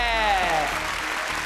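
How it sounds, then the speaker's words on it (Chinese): Studio audience applauding at a televised magic competition show, a steady wash of clapping heard with a rising voice-like tone over it, fairly loud throughout. "俾掌声自己"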